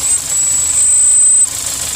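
A Kia Sorento GDI engine idles with a cylinder 4 misfire (P0304), steady up close with a thin high-pitched whine over a low rumble and no talking.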